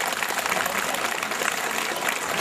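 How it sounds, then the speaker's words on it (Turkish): Steady, dense crowd applause at the opening of a katmer festival in Kemerkaya fills the whole stretch, even and continuous with no voices breaking through. "kuvvetli bir alkış rica ediyorum"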